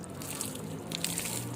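Water poured onto pipe insulation during cathodic protection work, a soft splashing trickle with scattered drips, fairly quiet and close, with no voices.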